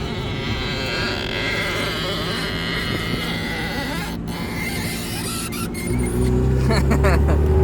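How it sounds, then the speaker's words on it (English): An old car's engine runs steadily nearby, a continuous rough hum that swells louder near the end as it revs, with a voice speaking over it. "Beautiful sound of an old car."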